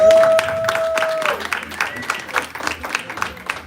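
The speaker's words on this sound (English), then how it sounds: "I need y'all to give us a hand clap" A church congregation claps, opening under a sustained tone and thinning into scattered, uneven claps from several people nearby.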